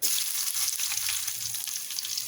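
Four dried red chillies and coarsely crushed shallots frying in hot oil, giving a continuous close sizzle with a bubbling crackle throughout.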